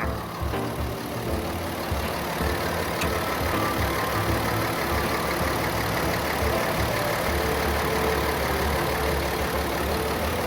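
The diesel engine of a 2021 Komatsu WA470-10 wheel loader idles steadily at close range, a continuous low rumbling chug with no talk over it.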